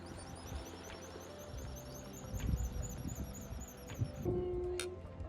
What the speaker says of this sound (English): They're extremely noisy, charismatic little birds.